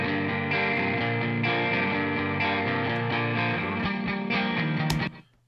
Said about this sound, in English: I think it's just a pretty standard clean tone